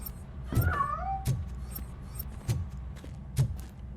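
A cat in RoboCop: Rogue City gives a short rising-falling meow early on, fairly faint, amid scattered soft thumps and clicks in a quiet indoor game scene.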